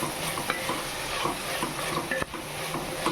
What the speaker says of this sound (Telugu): ఒక 5 మిరియాలు వేసుకొని అది ఫ్రై అవ్వాలి.